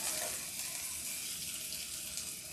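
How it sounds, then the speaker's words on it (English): Food sizzles steadily in a hot pan during home meal-kit cooking, a continuous close hiss of frying with no pauses and no voices. "now that it's coming to a sizzle, you can see we're gonna flip."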